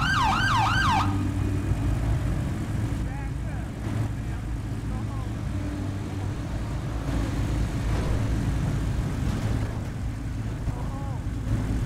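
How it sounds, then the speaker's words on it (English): A wailing police siren in a GTA roleplay video game sweeps up and down at the start, then keeps sounding faintly in bursts under engine rumble and background noise. "Can somebody kill that siren?"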